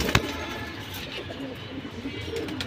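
Domestic pigeons coo softly in a loft, low repeated calls close by against a faint background hum, with a sharp click near the start and no speech.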